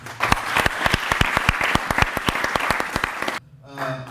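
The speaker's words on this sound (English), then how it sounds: "can we say big thanks to them, clap for them." Audience at a business event claps enthusiastically in a dense burst of many hands with sharp individual claps, close and loud, stopping abruptly near the end as a voice begins speaking.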